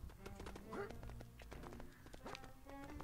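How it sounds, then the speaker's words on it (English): Donkey hooves clip-clop in the Lego Pirates of the Caribbean video game, a quick run of light, even knocks under faint game music. "Yay, I can just ride around on a donkey."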